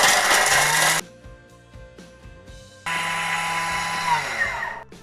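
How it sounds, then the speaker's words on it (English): A Thermomix TM6 whirs loudly as it grates Parmesan and parsley, running in two strong bursts with a quieter pause between them. "it just shows you the power of this thing. When it just makes easy work of grating Parmesan."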